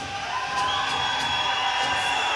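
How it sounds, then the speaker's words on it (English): Spectators at a grappling match between Ndue Leishi and Bruno Bernard cheer and whoop in a continuous, moderately distant roar with shrill shouts rising through the mix. "Crowd's going wild."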